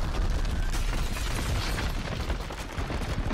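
Dense, continuous rumbling explosions and crashing debris roar loudly throughout an earthquake scene in the video game Battlefield 3, with no pauses or talk.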